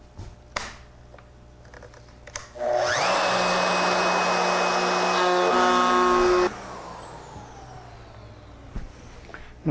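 A router bit cuts into a wooden bowl, a loud steady whine and roar that lasts about four seconds and then stops abruptly, with a few clicks and knocks before and after.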